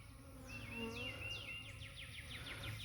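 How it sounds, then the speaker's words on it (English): Honey bees buzzing around a hive with an outdoor feeding dish, steady close drone with several passing buzzes whining by, no voices. "There's bees inside and there's bees outside."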